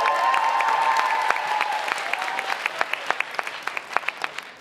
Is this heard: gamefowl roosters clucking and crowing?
no